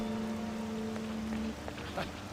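Rain in a video game falls as a soft, steady hiss across the whole clip, with a low electronic tone holding underneath for the first half before dropping away.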